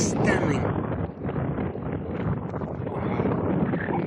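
Strong coastal wind buffets the microphone on a seaside hike by the Mpenjati River, a steady loud broadband roar filling all four seconds with little letup.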